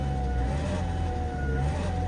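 A 2016 Mercedes A180 1.5 CDi diesel with a worsening turbo fault gives a steady high whistle and whine over a continuous low engine drone, close and constant throughout with no talking.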